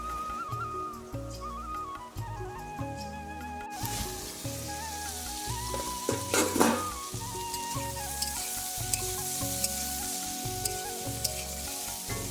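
Cooked dal is mixed in a pot over a steady sizzle, with a rhythmic low knocking and some tonal kitchen noise running throughout; the stirring blends into the background and no one speaks.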